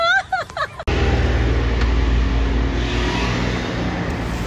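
Car being driven, a steady low road and engine rumble that continues evenly after a brief burst of music at the start.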